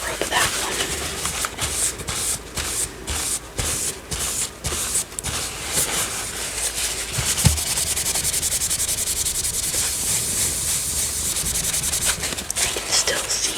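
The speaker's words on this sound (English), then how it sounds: "we're definitely gonna scrub that one." Steady rubbing and scrubbing against a book's surface to remove a sticker, close and soft, with short bursts early on giving way to continuous friction; quiet talking is heard in between.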